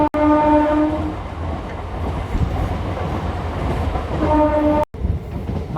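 A MEMU passenger train near Tenali Junction runs at top speed, a loud continuous rolling rumble with rail clatter, and a horn blast sounding at the start and again near the end.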